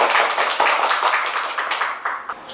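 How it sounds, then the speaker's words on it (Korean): Applause from a small audience at a community meeting of bereaved families, a dense patter of hand claps running steadily for the whole stretch at moderate loudness. "박수로 한번."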